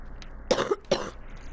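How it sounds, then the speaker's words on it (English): Two short, close coughs in quick succession from a person during a Fortnite gaming session, each a rough burst with little else around them. "edit out all this coughing"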